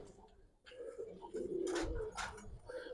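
Giribaz pigeons of a silver colouring coo close by in a couple of throaty, rolling calls over a low hum of background noise.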